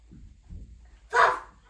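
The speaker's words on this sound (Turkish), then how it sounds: "Kangal havlama." A single loud Kangal dog bark at close range follows a couple of soft low rumbles, in an otherwise quiet setting at night.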